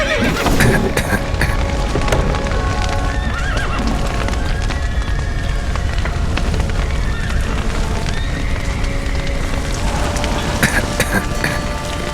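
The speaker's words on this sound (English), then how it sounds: "The horses!" Horses whinnying and neighing in The Witcher 3: Wild Hunt amid a dense, loud clatter of hooves, with rain-like noise and scattered voices mixed in.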